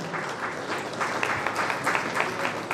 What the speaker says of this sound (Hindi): MOU एक्सचेंज के लिए तालियां इस समय बजती रहनी चाहिए।